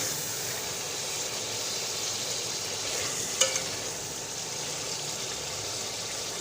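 Mutton for yakhni pulao fries in a pot with a steady, close sizzling hiss, and a single spoon knock rings out midway as it is stirred.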